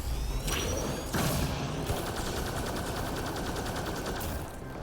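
Chained tech explosions in the video game Mass Effect Andromeda multiplayer roar as a loud, dense wash of blasts and rapid gunfire-like crackle with whooshing sweeps, sustained for several seconds without speech.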